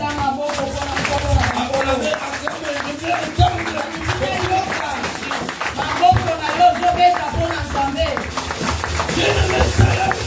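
A church congregation claps steadily and shouts acclamations during a worship service, a dense, continuous wash of applause and voices lasting throughout.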